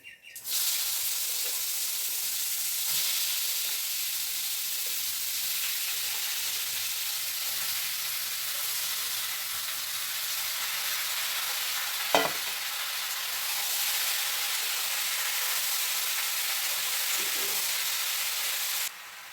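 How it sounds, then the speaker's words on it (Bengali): Hot oil with cumin sizzles loudly and steadily in a wok from start to finish, a dense close hiss with a brief clatter partway through. "কড়াইতে তেল আর জিরা পোড়ন দিয়ে দিয়েছি"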